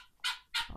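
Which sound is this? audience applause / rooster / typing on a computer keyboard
rooster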